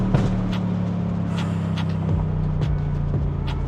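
A Mercedes S63 AMG in sport mode runs with a steady, loud engine drone and a low harmonic hum, with slight rises in revs over a few seconds and no one talking.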